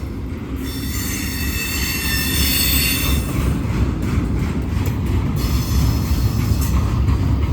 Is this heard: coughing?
no